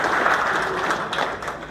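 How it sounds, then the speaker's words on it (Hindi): Audience applause for electricians at a wire and cable manufacturer's event, a short stretch of dense, even clapping from a crowd. "तो ताली किसके लिए होनी चाहिए?"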